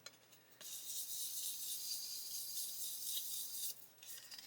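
Sandpaper gently rubbed over a plastic 1/12 scale Italeri Stratos model car body: soft, hissing back-and-forth scraping, close and quiet, steady for a few seconds with a short pause near the end.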